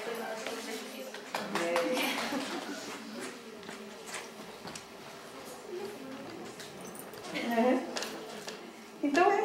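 Applause for teachers in a school gathering, light scattered clapping under ongoing talk and room chatter, rising briefly near the end.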